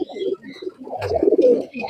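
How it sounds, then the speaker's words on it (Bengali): Pigeons coo in a loft, with several soft, throaty, rolling calls overlapping close by and a brief flutter partway through. "আমার বাসায় অনেক কবুতর আছে"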